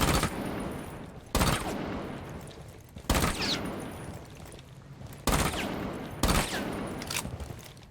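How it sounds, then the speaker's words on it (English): Aruni P10 Roni submachine gun in Rainbow Six Siege fired in five short, sharp bursts. Each burst is a loud crack of rapid shots followed by a fading tail, with gaps between bursts. "So when it comes to bursting the Roni, it is slightly different than other guns, and I'll demonstrate this now."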